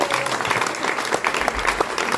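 A theatre audience at an amateur troupe's stage performance gives steady, close, continuous applause, with a faint murmur of the crowd beneath the clapping.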